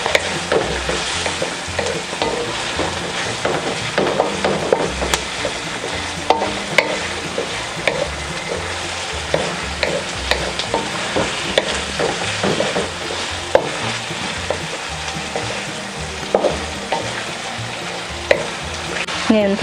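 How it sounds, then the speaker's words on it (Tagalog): Squid fries in a pan for adobo and is stirred continuously, producing a steady crackling sizzle broken by frequent scraping and clattering of the utensil against the pan, close and fairly loud with no talk. "Ngayon po ay isusunod na natin itong ating pusit. Hahaluin po natin."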